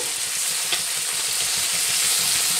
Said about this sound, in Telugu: ఓన్లీ పీసెస్ మాత్రమే ఫ్రై చేయాలి. ఇలా మొత్తం 2 పక్కల ఫ్రై చేసుకోవాలి.